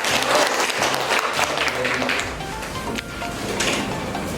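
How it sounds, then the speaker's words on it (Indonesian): Classroom applause for a student's drawing presentation, a noisy patter of clapping with room clatter, fading to lighter scattered claps in the second half. "Tepuk tangan."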